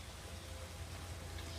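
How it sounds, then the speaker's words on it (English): Steady rain falling outdoors, a soft even hiss of drops on surfaces with no voices, heard quietly throughout. "I guess it's good that it's raining after all."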